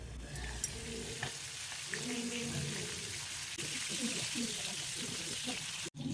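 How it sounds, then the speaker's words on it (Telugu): Dried fish frying in oil under a lid in a pan, a steady muffled sizzle with a few clinks, a voice talking over part of it. "ఎండు చేపల స్మెల్ బయటకు రాకుండా ఉండాలి అంటే మూత పెట్టేసి ఫ్రై చేసుకోవాలి."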